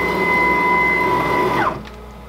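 A CNC router's stepper motors whine steadily as the gantry travels to its second work offset, then the pitch drops sharply and the motion stops, leaving a quieter hum.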